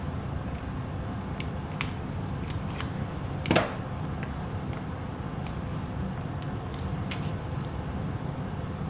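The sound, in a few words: scissors cutting paper for a scrapbook layout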